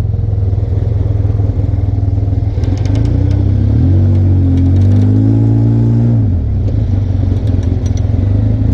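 Off-road vehicle engine on a trail at Windrock, idling steadily then revving up in a rising and falling surge midway before settling back, loud and close with some clatter, no talk.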